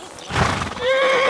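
A horse in Kingdom Come: Deliverance II gives a loud, close neigh, a rising whinny that trails off with a wavering tone after a brief rustle of hooves.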